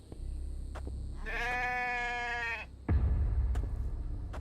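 A goat bleats in the survival video game The Infected, one drawn-out wavering cry near the listener over a low rumbling ambience, followed by a sudden heavy thump and rustling.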